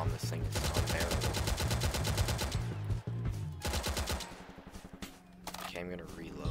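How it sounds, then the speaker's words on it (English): A red Tommy gun in the Combat Warriors video game fires long, rapid automatic bursts, loud and close, broken by short pauses and a reload, with a player talking over it. "And this time I got a red Tommy gun"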